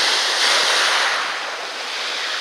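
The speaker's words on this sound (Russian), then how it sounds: "Море шикарное, прекрасное." Sea waves roll onto a beach at Fiumefreddo di Sicilia in September, a steady, loud wash of surf with some wind buffeting the microphone and no voices.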